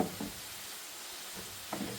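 Worcester sauce cooking off with browned mince in a pan, a soft continuous sizzle with a few spoon scrapes near the start and end.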